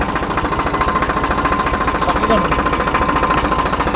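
A village tractor engine runs at a steady, close, rumbling idle with a regular knocking pulse as it is put into first gear, while people talk over it.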